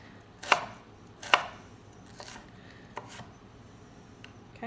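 A sharp knife slices cabbage thinly on a cutting board, giving a few crisp, close cuts at uneven intervals with soft scraping in between.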